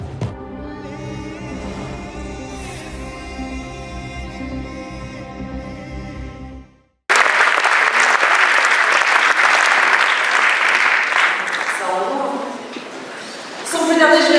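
Loud applause fills a crowded film premiere screening of the movie Les Sentinelles, following a stretch of film soundtrack, with the clapping sustained and dense before a voice briefly cuts in near the end.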